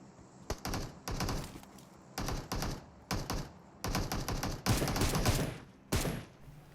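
Automatic gunfire in the mobile battle-royale game PUBG Mobile comes in about eight rapid bursts, close and fairly loud, separated by short gaps, with no speech.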